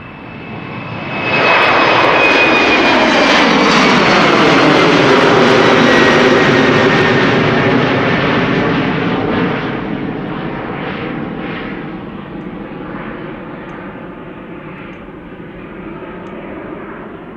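KLM flight 1285 to Aalborg departs Amsterdam Schiphol with a loud, close jet roar that swells quickly, holds strong for several seconds, then slowly fades as the airliner climbs away.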